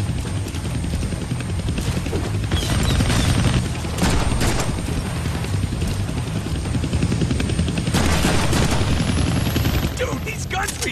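Gunfire in the Deadpool video game, a dense, continuous barrage of rapid shots with loud sharp bursts layered over a steady mechanical roar, close and sustained throughout.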